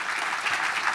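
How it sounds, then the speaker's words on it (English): Audience at the OECD Forum 2015 gives the panelists a steady round of applause, dense and continuous clapping that fills the room. "give a round of applause to our panelists"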